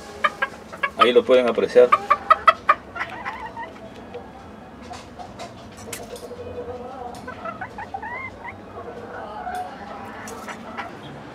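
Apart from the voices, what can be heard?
small rooster clucking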